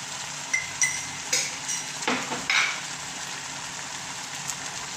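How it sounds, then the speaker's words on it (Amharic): A spice mix is stirred in a frying pan while making shakshuka with potatoes, giving a soft steady sizzle and a few scraping clinks of a utensil against the pan, close by with no voices. "እና ይህንን የተደባለቀ ቅመም ትንሽ እንዳያቃጥል እናዋህደዋለን።"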